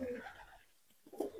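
Punjabi Malwai pigeons, short-bodied birds, give faint, low cooing, one murmur at the start and another brief, slightly louder coo near the end, with a quiet gap between.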